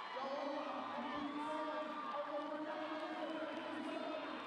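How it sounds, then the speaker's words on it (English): Appreciative crowd noise at a strongman competition, a continuous cheering hubbub with scattered whoops under an announcer's commentary, steady and moderately distant. "Crowd very appreciative."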